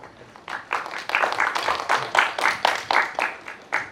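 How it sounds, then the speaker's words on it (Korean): An audience at a press conference for a stage production breaks into applause, dense, steady hand-clapping that rises quickly and holds for several seconds at close range. "박수 부탁드립니다."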